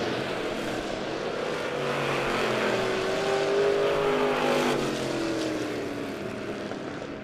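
Race cars roar around the oval at Monett Motor Speedway during a weekly championship race, engine noise swelling loud as cars pass near and then fading, with the pitch dropping as they go by.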